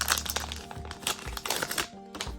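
Plastic packaging for a Mirabox capture card crinkles and rustles in close, irregular bursts as it is cut open with scissors, with sharp crackling snips throughout and no talk.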